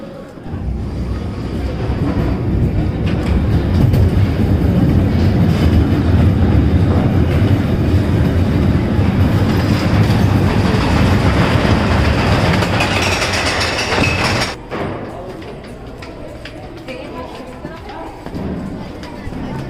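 The Termite Coaster at Wonderla Hyderabad clatters along its track in a loud, sustained rumble with rhythmic rattling, then stops abruptly, leaving quieter ambience; riders' voices and shouts mix in throughout.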